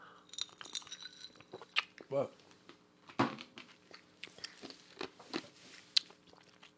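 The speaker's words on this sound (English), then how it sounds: "Chewing ice. You guys chew ice? I chew ice all the time." Someone chews ice cubes with sharp, irregular crunches and cracks close to the mouth, interspersed with faint clinks and brief speech.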